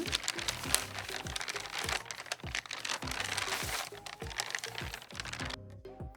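LOL Surprise Sparkle Series toy packaging crinkles and rustles up close as it is opened, a busy run of crisp crackles and irregular taps that stops abruptly at the end.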